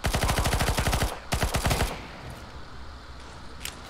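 Two rapid bursts of automatic gunfire in the video game CS:GO, loud and close, followed by a fading echo and quiet background.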